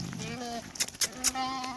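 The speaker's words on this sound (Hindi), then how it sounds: "हमारी भेड़ें और बकरी हैं" Sheep and goats in a village in Saudi Arabia bleat close by in wavering, drawn-out cries, with brief clattering noises between the calls.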